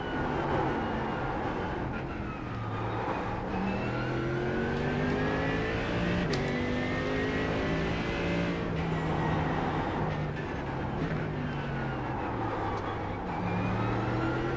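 Racing car engine in the iRacing sim, revving up and down through gears with rising and falling harmonic sweeps, loud and continuous, other cars faintly audible alongside.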